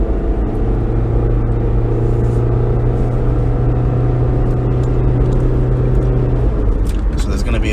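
A car drives close behind, its steady low engine rumble and road noise running continuously under a person talking in a parked or slow vehicle, then fading near the end.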